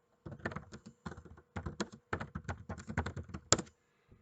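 Typing on a computer keyboard while entering information into a form, heard as steady bursts of rapid close keystrokes separated by short pauses, with one sharper key hit near the end.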